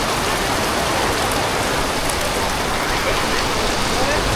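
Heavy rain falls steadily at a Cambodian Buddhist temple, a dense, loud, unbroken hiss of drops on surfaces that lasts throughout with no pause.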